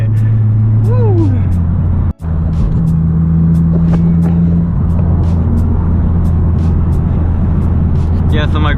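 Tuned K24 engine in an 8th-generation Honda Civic Si pulls hard from inside the cabin, a loud steady drone with a rising harmonic sweep, a brief dropout near two seconds, and a voice calling out over it.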